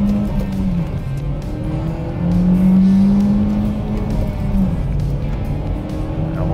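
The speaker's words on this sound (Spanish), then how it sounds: "Ahora voy a comprobar la aceleración del nuevo motor turbo." A Renault Duster with a 1.3-litre turbo engine accelerating from inside the cabin, its engine note droning and climbing in pitch, with a steady rumble of road noise underneath.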